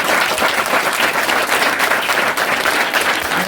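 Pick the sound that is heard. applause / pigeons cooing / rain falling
applause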